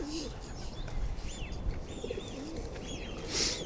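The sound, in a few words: pigeons cooing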